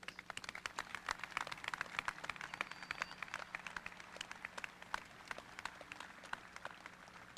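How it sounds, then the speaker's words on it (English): Outdoor stadium applause at a 2024 graduation ceremony, many hands clapping at a distance in a sustained crackling patter, fairly faint and steady with a faint hum underneath. "You're applauding already"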